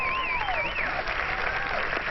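Steady crowd applause fills the whole stretch, dense and even, with a couple of whistles sliding over the clapping.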